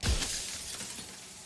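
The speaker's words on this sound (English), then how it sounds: "A crack slides down the center of the mirror, splitting the image in the glass in two." Mirror glass cracking in the Slay the Princess video game: a sharp shattering burst at the start that trails into a lingering, bright crackle and hiss, with no talking.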